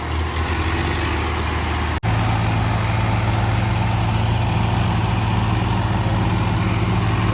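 A tractor hauling an 18-foot trolley up out of deep mud near a small new culvert on a road being built runs with a steady, loud low engine drone, briefly cut near the start, then holding on.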